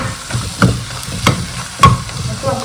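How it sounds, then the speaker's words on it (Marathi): Ground spices sautéed in a hot pan with oil for a shevla wild vegetable dish, giving a steady close sizzle broken by a few louder stirring scrapes and clinks of a spoon against the pan, with no talking. "परतून घ्यायचं."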